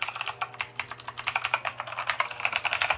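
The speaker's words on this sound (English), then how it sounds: "that sounds like blue switches to me" Fast typing on a cheap $15 full-size mechanical keyboard with blue switches gives a dense, steady stream of crisp, twangy clicks close up, with no voices.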